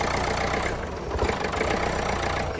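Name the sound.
Renault Kangoo van engine stalling after wiring tug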